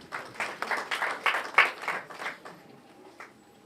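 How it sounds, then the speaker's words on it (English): A small group of young debaters at a school tournament claps in a brief, uneven burst of applause that is moderately loud at first and then fades out after a couple of seconds. "Can you please clap for yourselves"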